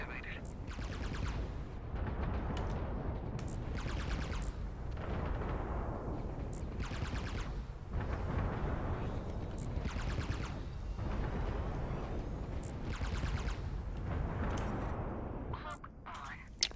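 Ship weapons firing in the space combat video game Fractured Space, with repeated bursts of shots pulsing roughly every second over a steady loud rumble, as someone talks throughout.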